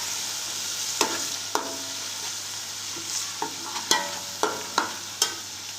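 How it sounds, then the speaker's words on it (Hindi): Garlic and ginger paste sizzles steadily in hot oil while a spoon scrapes and stirs it, giving sharp metallic clinks every half second or so over a constant frying hiss. "इसको ज़रा सा फ्राई करना है पेस्ट को।"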